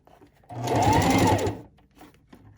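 A sewing machine stitches elastic onto a fabric gift bag in one short burst of about a second of fast, even whirring, close and moderately loud, with quiet room sound before and after.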